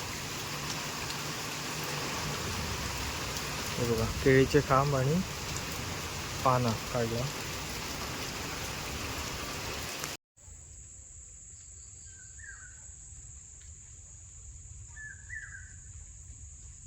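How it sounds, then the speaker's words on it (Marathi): Heavy rain pours steadily over a rural Indian home area at night, a loud constant hiss that cuts off abruptly partway through, followed by quieter background with a few faint chirps; someone speaks over the downpour. "पाऊस आता जोरातच इलो आहे बघा"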